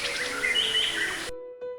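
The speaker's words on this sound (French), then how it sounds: "tous les petits oiseaux du ciel vinrent en voletant" Small birds chirp and tweet in quick, bright overlapping calls, fairly close and moderately loud, ending with a sudden drop to a faint tonal hum.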